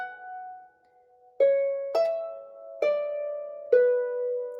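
A phrase of the tune Bonnie Galloway played on a harp, with five clear plucked notes that ring out and decay, each struck fairly loudly and spaced about a second apart, following a soft opening tone.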